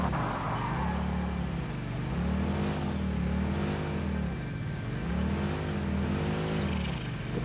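A vehicle in the video game Satisfactory, crossing rough terrain, drones with a steady engine hum whose pitch swells and dips in slow waves, loud and close with no talk over it.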